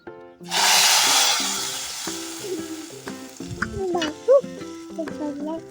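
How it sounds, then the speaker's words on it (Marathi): A tadka for kadhi hits hot oil in a pan over a wood-fired stove, bursting into a loud bright sizzle that slowly settles into a softer crackle, with stirring and faint background sounds. "पहिले आपला तडका टाकून घेऊया"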